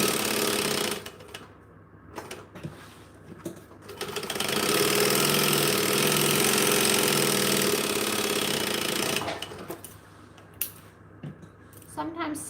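A sewing machine stitching fabric for market bags, a steady close motor whir running for several seconds between short stops and handling noises.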